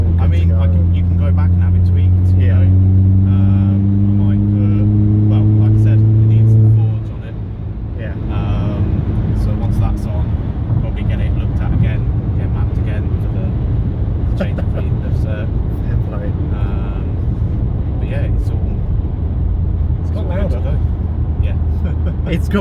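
A turbocharged Ford Fiesta's engine holds a loud, steady droning tone for several seconds, then drops to a lower road and cabin rumble while people talk over it.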